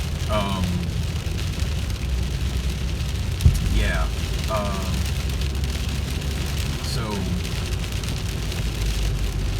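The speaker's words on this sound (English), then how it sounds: "holy crap, this rain is really coming down" Heavy rain pours steadily on a car during a drive to work, a dense, loud wash of hiss with low road rumble beneath, and a person speaks briefly over it.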